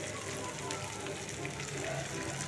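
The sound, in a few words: meat marinated in yogurt frying in a pan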